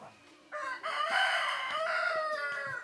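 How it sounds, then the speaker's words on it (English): Roosters in a small mountain village in northeast India crow at dawn, several long, loud calls overlapping into a sustained chorus with faint clucks underneath. "A chorus of roosters greets the new day."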